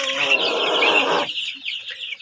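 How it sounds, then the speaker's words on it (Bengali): Dense clucking and chattering from several poultry hens kept for eggs, close by, loud and continuous, then cutting off abruptly into near silence with a few faint calls. "এখানে যে পোলট্রি মুরগিটা দেখছেন"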